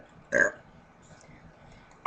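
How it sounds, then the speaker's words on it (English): Two short, loud burps stand alone, the first near the start and the second at the very end, with quiet room noise between them. "After he was done burping, he burped again."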